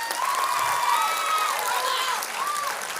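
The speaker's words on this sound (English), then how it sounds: "You can clap for her." Light audience clapping for an award winner at a high school honors assembly, fairly quiet and thin, with faint tonal sounds and murmuring mixed in.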